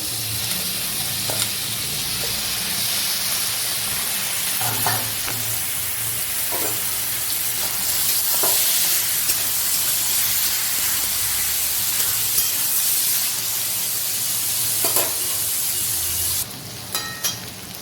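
Chopped potato goes into a pan of frying onion, ginger and chili, giving a loud, steady sizzle broken by occasional scraping clicks from stirring.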